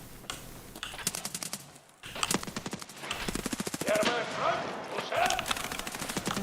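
Rapid bursts of automatic fire from a machine gun rated at 700 rounds a minute in an online video game, loud and close, with brief pauses between strings of shots and a voice talking over parts of it.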